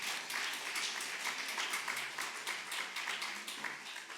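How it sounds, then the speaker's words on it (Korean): A church congregation at a New Year's dawn prayer service claps for the children, with dense, steady applause from many hands filling the room for several seconds. "얘들 한번 박수 좀 쳐주세요."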